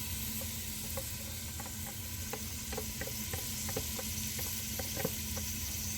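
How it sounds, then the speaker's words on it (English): Chopped yellow onion cooking in butter in a pan for creamy tomato soup gives a steady, even sizzle, with small scattered ticks and pops over a low continuous hiss and no talking. "This onion needs to cook in this butter for about 10 to 12 minutes"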